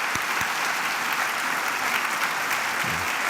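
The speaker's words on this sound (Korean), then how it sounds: "다시 한번 뜨거운 박수로 격려해 주시면 감사하겠습니다." Warm, continuous applause from a church congregation during a worship service, many hands clapping together in a steady roar with a couple of distinct close claps near the start.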